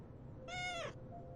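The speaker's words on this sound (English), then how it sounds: "Look at the kitty cat." A single clear cat meow in a video game, a short, bright, near cry over quiet background hum.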